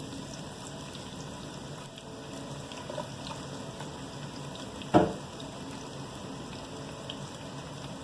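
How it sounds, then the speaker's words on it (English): Onions frying in hot oil in a pot for peas dhal, a steady sizzling hiss that runs the whole time, with one brief knock partway through. "I will add my oil because my pot is hot already, and in goes my onions"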